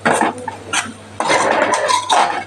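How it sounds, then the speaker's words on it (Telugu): Spices being stirred into a curry in a pan for karjam fry, with loud scraping clatter of a utensil against the pan in bursts, close up, no voices. "ఇప్పుడు మసాలా దినుసులు మొత్తం కూరకి స్ప్రెడ్ అయ్యేటట్లు బాగా కలపాలి."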